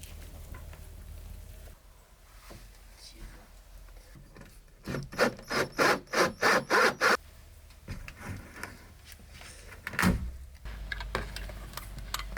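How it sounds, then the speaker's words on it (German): A hand saw cuts holes for LED lights in the wooden panelling of a Crafter campervan conversion, a run of eight quick, rhythmic rasping strokes, preceded and followed by quieter rubbing and handling noises. "Dafür werde ich jetzt ein paar Löcher sägen."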